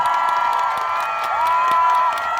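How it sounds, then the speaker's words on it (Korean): An outdoor festival concert crowd cheers and shouts loudly, with high-pitched whoops and scattered clapping throughout. "이분들께 여러분 박수 한 번만 보내주세요"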